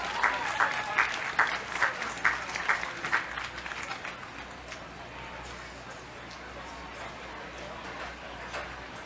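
At an outdoor recovery walk event, a crowd applauds presenters with a fairly faint, spread-out clatter of clapping. A run of sharp, regular taps opens it, and then the sound thins into a distant, sparse patter.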